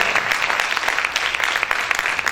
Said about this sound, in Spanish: Vamos a aplaudir fuerte a nuestro Señor